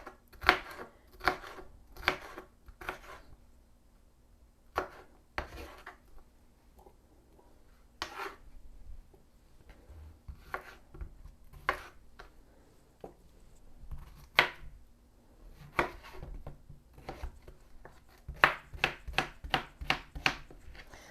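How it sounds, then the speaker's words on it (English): A big old large onion is chopped with a knife on a board: irregular bursts of crisp, close cuts separated by short pauses, ending in a quick rapid cluster of chops. "let me finish cutting up these vegetables. Now I have this big old large onion"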